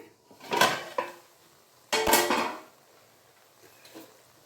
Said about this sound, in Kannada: ಈಗ ಪ್ಲೇಟ್ ಓಪನ್ ಮಾಡ್ತಾ ಇದ್ದೀನಿ